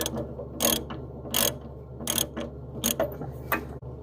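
Bolts are unthreaded from a Stenner MAE spindle motor during a rebuild, giving five or six sharp ratcheting bursts at a steady rhythm, close and fairly loud, with a faint mechanical hum underneath.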